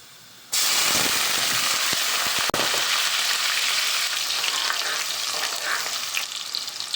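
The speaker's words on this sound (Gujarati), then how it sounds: "લસણ નાખી દીધું હવે નાખું ડુંગળી એડ કરી ઉકેલી" Garlic and onion dropped into hot oil in a pan while making a bitter gourd and prawn dish: a sudden loud hiss that settles into a steady sizzle, with a brief knock partway through, close with no talking.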